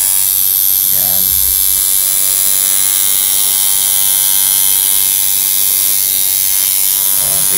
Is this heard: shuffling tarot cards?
no